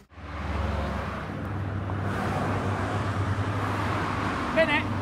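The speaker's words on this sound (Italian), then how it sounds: "Un po' di traffico, non pensavo che la Brennero fosse così trafficata." Steady road traffic on the Brenner route entering Austria, a continuous low rumble of engines and tyres heard from inside a vehicle, fairly loud throughout with a brief higher tone near the end.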